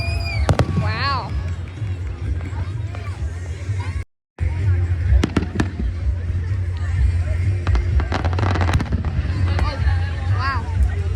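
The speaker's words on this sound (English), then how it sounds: "Now we're gonna watch the fireworks together." Fireworks at a public event pop and crackle in scattered bursts amid a steady crowd hubbub, with people chattering and calling nearby throughout; a brief dropout cuts the sound midway.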